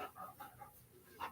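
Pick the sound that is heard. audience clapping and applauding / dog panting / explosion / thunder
dog panting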